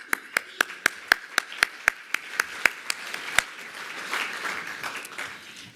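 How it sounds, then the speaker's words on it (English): Applause at a vehicle competition awards ceremony for a team: a dozen crisp, evenly spaced claps open, then a broader wash of audience clapping swells and lingers. "And for this, I applaud your team."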